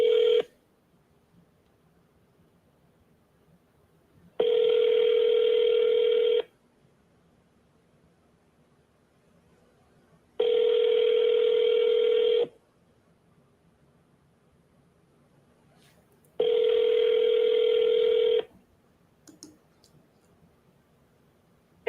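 An outgoing telephone call rings on the line, with three evenly spaced ringback tones, each lasting about two seconds and separated by roughly four seconds of near silence, clear and alone.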